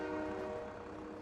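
A train passing through in Farming Simulator 22, a brief, faint, steady rumble with a tonal horn-like hum throughout.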